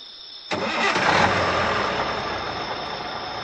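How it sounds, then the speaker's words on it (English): A truck engine starts abruptly after a brief quiet moment, the starter catching and settling into a steady, moderately loud idle rumble with no voices. "started the engine, and the journey began"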